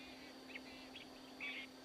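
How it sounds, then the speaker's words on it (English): Birds twittering in the African bush, a few short chirps and trills popping out over a quiet background with a steady faint electrical hum, the brightest call near the end. "I hear a couple birds"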